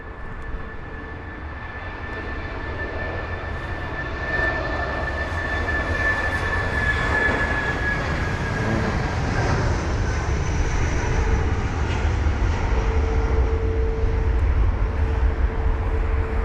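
An Airbus A380 departs Heathrow's runway 27 right in wet weather, its jet engines a broad, steady roar that slowly builds and holds across the whole stretch, with a thin whine riding above and no talk.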